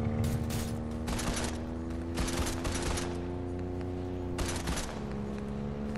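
Video game gunfire crackles in several rapid automatic bursts over a steady humming background, fairly faint, with no talking.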